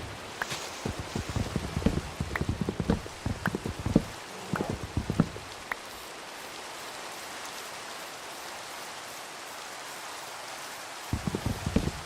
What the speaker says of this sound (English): Hope you guys are enjoying the rain sounds.